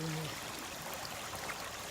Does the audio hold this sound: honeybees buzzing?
no